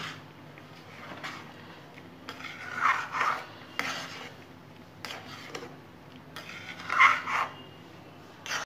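Mango payesh, a rice pudding sweetened with sugar, is stirred in a pot. Repeated scraping strokes rise and fall in a steady rhythm over a low background hum, with no voices.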